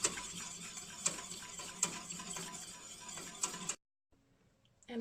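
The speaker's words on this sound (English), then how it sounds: "So I'm just gonna whisk that. And you can whisk it up till it starts to thicken." A whisk scrapes through milk in a pan for mac and cheese. It makes quiet, rhythmic clicking strokes with sharper taps roughly every second, then falls briefly silent before a last scrape.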